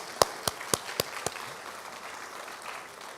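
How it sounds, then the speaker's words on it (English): At a memorial lecture on civilian oversight of law enforcement, a handful of sharp, evenly spaced claps ring out close by, about five in a row, then the room falls quiet. "let's get a round of applause for Marcia and Dr. Barnes again"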